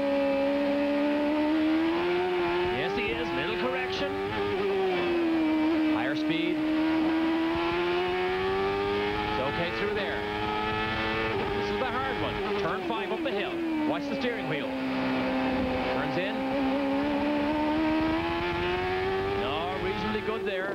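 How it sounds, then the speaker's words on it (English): A 1995 CART race car engine at Laguna Seca screams continuously as the driver works the throttle, its loud wailing pitch rising and falling in long sweeps through corners. "Let's listen to Michael play with the throttle."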